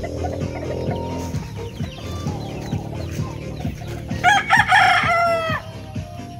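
Chickens and roosters kept as pets by a relative in Caraskal cluck on and off in a steady rhythm nearby. Midway, one rooster lets out a loud, close crow over the flock.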